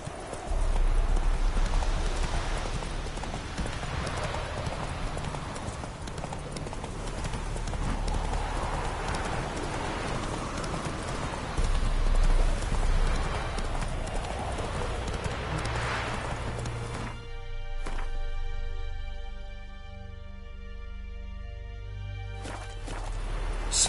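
Roach the horse in The Witcher video game trotting, with steady hoof clip-clops on ground carrying on for most of the stretch, then a burst of game music near the end.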